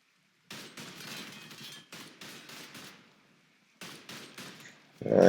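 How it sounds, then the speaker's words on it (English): Bursts of gunfire aimed at the player in Mafia 3, several rapid volleys spread across a few seconds, with a short pause and then a louder burst close by at the end. "Oh God, I'm being shot at. Where the hell am I being shot at from?"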